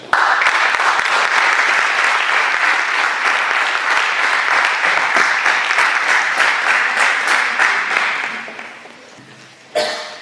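Sustained applause from a church worship audience welcoming a sister to the stage, loud and dense throughout, thinning out near the end before a brief final burst.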